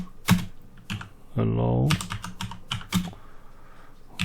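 Keys clatter on a computer keyboard as a sudo ufw firewall command is typed, in quick irregular clusters of clicks, with someone speaking briefly in between.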